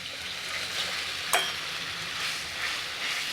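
Continuous hissing sizzle of spices tempering in hot oil for masala kadhi, with a single brief clink partway through, close and fairly soft.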